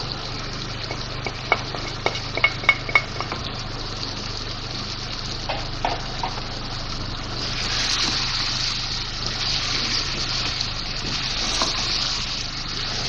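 Spices fry in a pot for mutton stew, a steady sizzle with scattered clicks of stirring early on and a broader hiss swelling in the second half, close and without speech.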